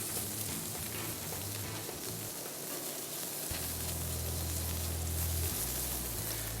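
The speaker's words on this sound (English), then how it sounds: "Char the bacon." Bacon sizzles on a hot grill slicked with a little olive oil, a dense continuous hiss with a low droning hum beneath, close and steady for several seconds.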